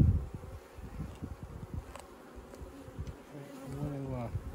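Honeybees buzzing steadily at an open, troubled hive during a brood harvest, a close, continuous swarm hum with a few louder passes near the end.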